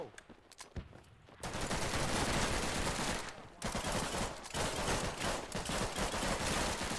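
Video game gunfire rattles in long, dense automatic bursts, loud and close, filling nearly the whole stretch after a brief quieter opening, with no clear talk over it.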